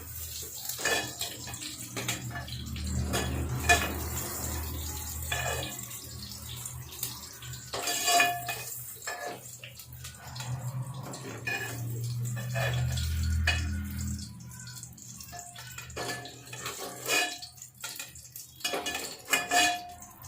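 Utensils clink and scrape against a pan and plate as fried soybean mangodi is lifted out, with metallic clatter and rattling over a steady background rush, fairly close and continuous.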